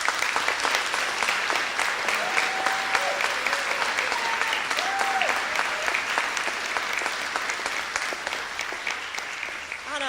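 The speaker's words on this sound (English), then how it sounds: "clap your hands to all of your fellow graduates who've been there throughout the course with you." Graduates at a college graduation ceremony clap their hands in sustained, dense applause across a large hall, with a few faint voices and whistles rising above the steady clapping.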